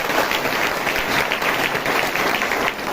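A church congregation claps hands in thanksgiving to God during a Hindi worship service, producing a loud, sustained burst of many overlapping claps throughout.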